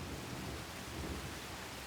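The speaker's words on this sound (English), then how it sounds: "And it's thundering crazy. But I'm outside this time. You can hear it probably if you turn up your volume a lot." Thunderstorm outdoors with steady rain hiss and a low, continuous rumble of thunder; no voices.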